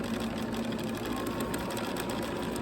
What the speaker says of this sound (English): I'm gonna stitch just inside of where that gathering was